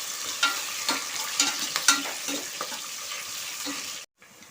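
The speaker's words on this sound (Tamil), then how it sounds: "வெங்காயம் நல்லா வதங்கட்டும்." Onions sauté in a pan with a moderate sizzle broken by several spoon scrapes and taps, close by, then a brief drop to silence near the end; no speech.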